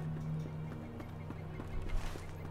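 Horse hooves clip-clop in a steady rhythm in the fantasy online game The Lord of the Rings Online, set around Edoras, over a constant low game ambience and hum.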